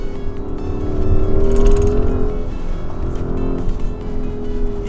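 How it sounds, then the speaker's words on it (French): A 680 hp Porsche Cayenne Turbo S hybrid roars loudly at close range, the engine note rising and easing as the driver downshifts, with exhaust crackles and pops breaking through. "des grosses explosions à l'arrière à l'échappement"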